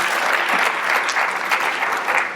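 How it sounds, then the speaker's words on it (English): Sustained audience applause for conference speakers at a scientific Python plenary session, a dense even clapping from a large crowd that continues steadily throughout without voices. "If we could have a round of applause for all of today's speakers."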